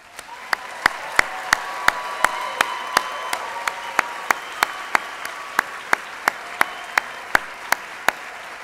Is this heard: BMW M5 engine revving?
no